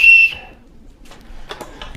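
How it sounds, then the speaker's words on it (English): A cheap whistle from a budget survival kit gives one short, shrill, loud blast, followed by quiet handling clicks and rustles. "It's got a whistle."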